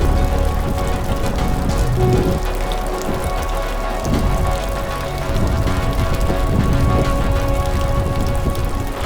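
Heavy monsoon rain pours down at Irshalgad fort in Maharashtra, a loud, steady downpour drumming on surfaces without pause and with no voices.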